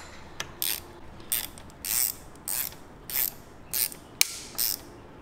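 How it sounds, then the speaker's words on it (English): Ratchet wrench tightening a pinch bolt on a Harley-Davidson motorcycle's front end, heard as a series of about seven short, crisp clicking bursts in a steady rhythm, close by with no talk. "we'll go ahead and tighten this pinch bolt up"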